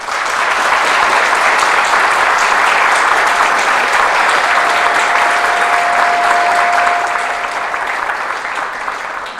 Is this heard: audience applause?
yes